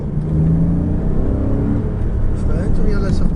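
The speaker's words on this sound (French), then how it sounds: "On réaccélère fort." A Porsche Cayman S accelerates hard on the Chenevières race circuit, its engine note a steady, loud rumbling drone that builds slightly toward the end, heard from inside the car.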